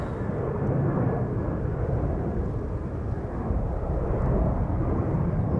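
Air Canada Boeing 787-8 Dreamliner, nine years old, lining up for takeoff at Schiphol Airport: a steady, broad low jet-engine rumble and roar holds at even loudness throughout, with no voices.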